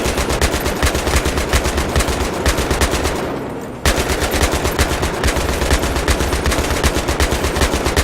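A tank-mounted machine gun in the Battlefield 3 campaign fires in long, rapid, continuous bursts. The fire pauses briefly midway, then resumes just as loud and close, with no talking.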